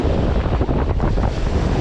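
Waves surging steadily onto a rocky Lake Erie beach, a loud continuous wash of surf with heavy wind buffeting the microphone throughout.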